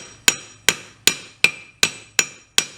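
Seven evenly spaced hammer blows ring out on a silver ingot, each sharp bright strike decaying quickly before the next, close and clear.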